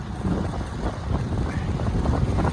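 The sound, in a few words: wind blowing while cycling on a road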